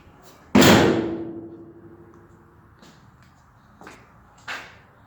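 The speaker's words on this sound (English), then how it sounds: "The doors open and close really good." Doors on a vehicle under restoration swing and shut: one loud slam with a long ringing decay, followed by two lighter, sharper latch clicks, with no talking.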